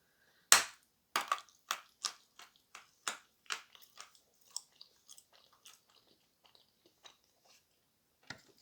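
Crunchy edible clay bitten and chewed close up: a sharp glass-like crack, then a series of crisp crunches that slowly soften and fade, with one last bite at the end and no talk.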